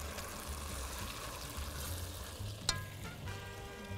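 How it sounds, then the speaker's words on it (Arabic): Onions, carrots and peppers fry with marinated beef in a hot pan, giving a steady, even sizzle close by with one brief sharp clink partway through and no talking. "هحط البصل والجزر واخيرا خالص الفلفل، لان هو اسرع حاجه بتستوي معايا"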